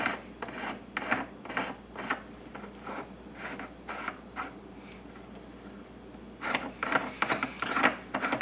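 A 9mm reloading die being screwed by hand into a reloading press, rhythmic short scraping rubs of metal threads turning, quiet and close, in bursts separated by brief pauses.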